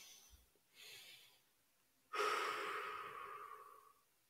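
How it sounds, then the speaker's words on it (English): Slow, relaxing belly breathing close up: a soft inhale through the nose, a pause, then a long, steady, audible exhale that fades gently. "you do the belly breathing"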